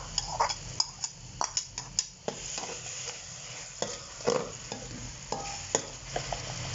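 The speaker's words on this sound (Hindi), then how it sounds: "अब हम इसमें टमाटर का पेस्ट और अदरक और लहसुन का पेस्ट डाल देंगे।" Onions that have cooked a few minutes keep frying in a pan as tomato paste and ginger-garlic paste are added for daal mash, with a faint steady sizzle under scattered spoon scrapes and clinks against the pan.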